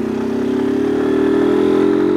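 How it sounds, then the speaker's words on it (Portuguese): Motorcycle engine held in second gear, revving up with a steady, loud mid-pitched drone that climbs slightly in pitch and volume over a couple of seconds, heard up close with no talking. "Acelera, acelerou, acelerou."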